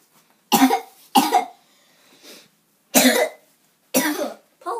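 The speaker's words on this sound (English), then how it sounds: "that's enough coughing now." Five harsh coughs in short bursts, the first two close together, then a quieter one, followed by two more after a pause.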